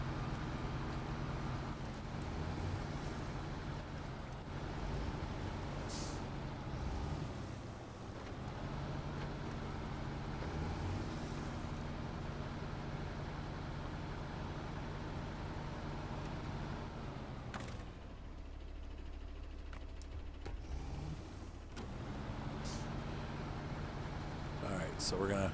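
A rescue truck drives through the SnowRunner game world, its engine drone low and steady beneath near-constant talk, with occasional shifts and short gaps in the rumble.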